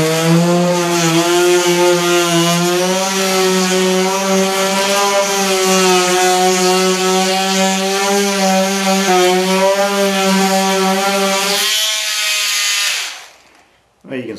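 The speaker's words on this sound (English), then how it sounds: "So Let me get the multi-tool out. Let's try this again with a battery in it." A battery multi-tool buzzes steadily at a high oscillating pitch as it cuts into wood, loud and continuous for about twelve seconds before cutting off abruptly.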